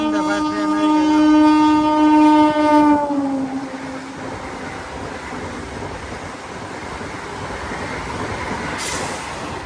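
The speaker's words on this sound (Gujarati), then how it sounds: "વંદે ભારત ટ્રેન આવી ગઈ જો।" A Vande Bharat express train sounds a long, loud horn at close range, then roars and rattles steadily past on the rails as the blast fades.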